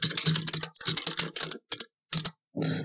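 Fingers typing an email address on a computer keyboard, quick close bursts of key clicks with short pauses between groups, quiet and alone.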